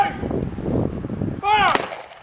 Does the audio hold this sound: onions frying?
no